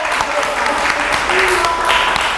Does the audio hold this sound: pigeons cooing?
no